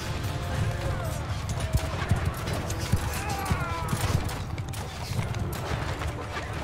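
Horse hooves clip-clopping in the Mount & Blade 2: Bannerlord video game during a city siege battle, a dense continuous patter of many hooves mixed with clashing and battle noise.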